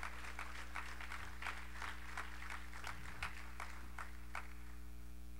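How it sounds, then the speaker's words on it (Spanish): Church congregation at a sermon clapping in praise of Jesus: a run of distinct, rhythmic group claps over a steady low hum, moderately loud and continuing for several seconds before thinning out. "Denle un aplauso a Él se lo merece."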